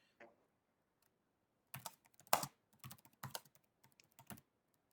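Quiet, irregular bursts of keystrokes on a computer keyboard, a few clicks, a pause, then a rapid flurry of clattering taps with no voices.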